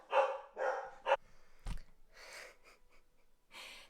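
A small, shivering dog gives a few soft, faint barks and yaps, scattered among quiet breathy sounds in a calm indoor setting.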